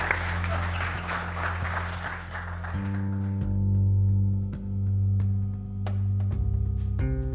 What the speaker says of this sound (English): Let's give a big round of applause to Tom Styer for joining us here this evening at Climate One.